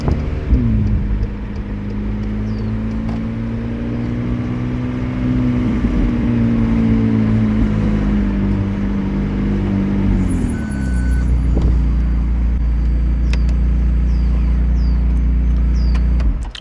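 McLaren 720S Spider supercar on the road, a steady loud engine drone with a rising and falling pitch through shifts, a brief dip near eleven seconds before a deeper rumble carries on.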